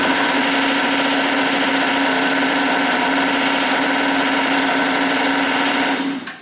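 A small engine on a motorized StingRay bicycle idles after a carburetor adjustment, a loud, smooth, steady buzzing drone held close, dropping off at the very end.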